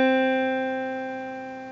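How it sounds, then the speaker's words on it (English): One electric guitar note is left to ring with no vibrato, a steady clear tone that slowly decays over under two seconds, heard alone. "If I play a note on its own and just let it ring, it'll sound a bit like this."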